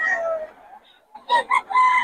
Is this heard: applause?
no